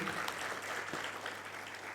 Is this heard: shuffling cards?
no